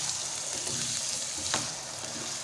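Diced potatoes and carrots frying in a pan, a continuous soft hiss and crackle at moderate level with one brief scrape midway, without speech.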